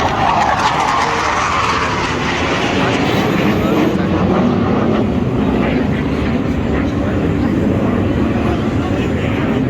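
Indian Air Force Suryakiran jets fly over Marine Drive in Mumbai at an air show, a continuous, loud, broad jet roar with crowd noise and voices talking beneath it.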